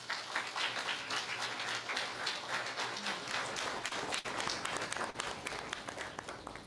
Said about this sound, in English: I'd like you to give them all a big round of applause.